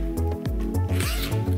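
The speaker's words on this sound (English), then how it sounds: "I have a zipper here." Zipper on a VR headset travel bag pulled in several quick rasping strokes, close and crisp, with no talk over it.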